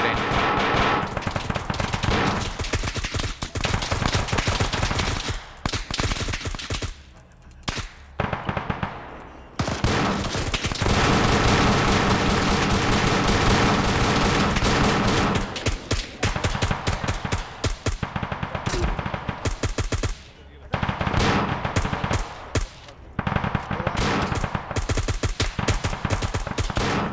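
Video game gunfire in a military operation, relentless machine-gun bursts and rapid shots, loud and near, with only brief gaps between volleys across the whole stretch.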